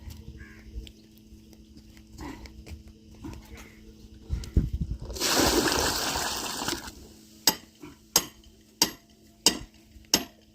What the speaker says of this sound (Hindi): ये देखो पानी भी डाल दिया है